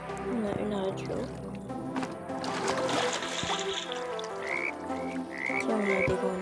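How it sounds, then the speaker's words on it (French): Frogs croak in a repeated chorus, with higher chirping calls near the end, under continuous talking and a watery trickling background. "Tiens, on a des grenouilles."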